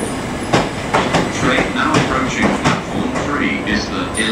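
Train at Lewes station, rolling wagons with rhythmic clickety-clack of wheels over rail joints and some brake or wheel squeal, loud and close, with voices and an announcement in the background.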